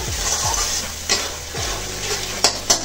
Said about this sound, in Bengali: এবার মশলাটা ভাজা হবে